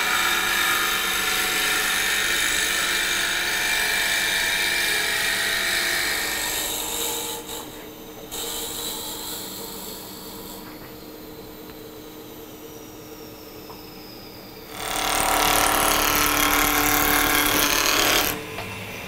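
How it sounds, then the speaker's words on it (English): A wood lathe drills a hole into a spinning wooden slingshot blank with a Jacob's chuck, giving a loud continuous rasping whir that drops away, returns quieter, then surges loudly again for a few seconds. "how we're going to drill the hole is going to be with a Jacob's chuck"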